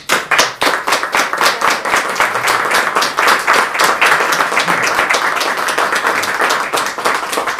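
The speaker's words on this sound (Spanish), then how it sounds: "Y quiero un aplauso para Ángel" An audience at a press conference breaks into sustained applause, dense loud clapping that runs steadily for several seconds with no voices over it.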